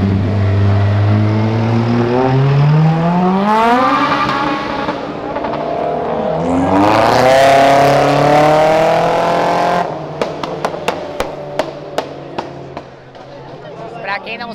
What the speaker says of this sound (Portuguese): aquele SI que tá passando aqui é o turbo do Vitor Parreira